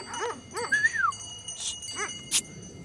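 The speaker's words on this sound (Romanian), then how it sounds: "Uite, câinii fac gălăgie, au văzut ceva" Dogs on a horse farm yelp and whine in short bursts at a moderate distance, several rising and falling cries spaced out, with a light metallic jingle between them.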